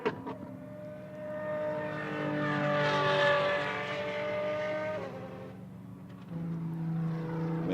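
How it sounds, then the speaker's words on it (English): An Apollo IE hypercar at a Circuit of the Americas track session, its engine note rising in pitch as it passes, holding a strong harmonic howl, then dropping lower before revving again. "The sound of this car is unbelievable."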